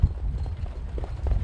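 Racehorses trot off at the start of a harness race, their hoofbeats a muffled, low rumble under steady crowd and track noise.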